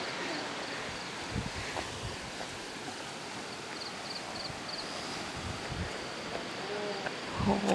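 Strong wind rushes across a mountain viewpoint near the Thai–Myanmar border at Suan Phueng, Ratchaburi, during the rainy season. It is a steady, broad roar with faint buffeting and a few soft thumps, and a voice briefly rises at the end.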